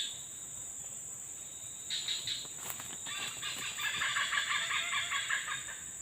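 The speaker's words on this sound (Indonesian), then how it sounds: "Oh. Burung kungkai." Rare, nearly extinct kungkai bird calling in a bamboo forest camp on an overcast, drizzly day, a run of bright, laugh-like notes rising over a constant high insect drone, moderately near.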